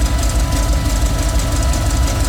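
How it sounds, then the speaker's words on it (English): A built Ford 302 V8 in a Bullnose F150 pickup runs steadily and loudly, its dense low rumble and rapid pulsing close up, with no voices. "It's a properly built engine,"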